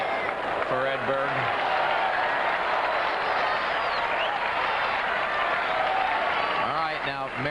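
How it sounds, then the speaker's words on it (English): Sustained crowd applause fills a 1992 US Open semifinal tennis match between Edberg and Chang, loud and steady throughout, with brief bursts of commentator talk near the start and end. "who's that applause for?"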